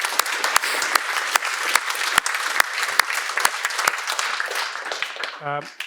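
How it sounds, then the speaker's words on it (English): An audience at a conference panel applauds steadily, a dense patter of many hands clapping with a few sharper nearby claps, fading toward the end. "a round of applause for everybody there"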